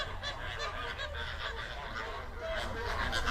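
A flock of flamingos calling at a Kenyan soda lake, continuous honking, goose-like chatter from many birds blending into a dense, steady chorus.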